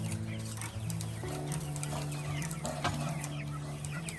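Chickens and turkeys clucking inside a chicken tractor on grass, with several birds making close, overlapping clucks and short calls continuously through the few seconds.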